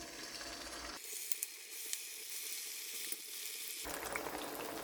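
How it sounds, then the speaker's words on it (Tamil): Quiet, steady sizzling and crackling of potatoes frying in hot oil, with a few soft clicks. "நான் இதில் உருளைக்கிழங்கை இப்போ போட்டு பொரிக்க போகிறேன்"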